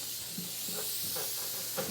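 A steady, close hiss of escaping steam from a steamer softening glue during a guitar neck reset runs throughout, with faint soft thumps beneath it and no talking.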